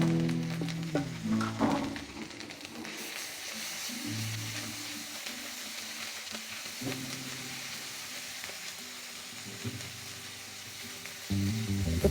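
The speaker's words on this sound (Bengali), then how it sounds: "আমি একটু ভেজে নিচ্ছি।" Ginger, garlic and cumin paste fries in hot oil for a spicy prawn curry, giving a steady close sizzle with occasional stirring scrapes throughout, no voices present.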